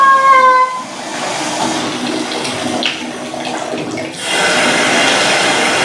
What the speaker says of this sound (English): a little bit of cool water on